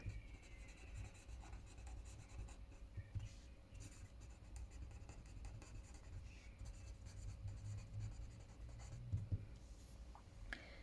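Pen writing a math solution by hand on paper, with soft continuous scratching strokes close to the microphone and no talk over it.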